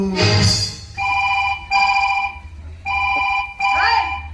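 A mobile phone rings in four repeated electronic bursts with short gaps, loud and close, following a brief voice at the start.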